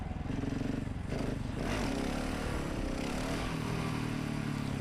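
A motorcycle engine holds steady under throttle during a wheelie, a loud close drone that rises slightly, with wind buffeting over it.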